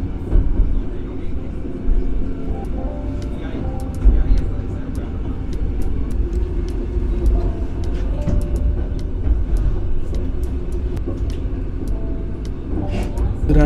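A Flåm Railway train in Norway, with one engine at the front and one at the rear, rumbles along steadily with rattling clicks, heard from aboard with faint voices in the background.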